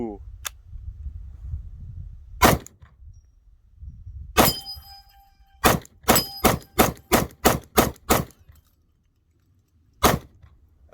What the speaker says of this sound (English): I'll try to rapid fire to see if it behaves any worse under duress.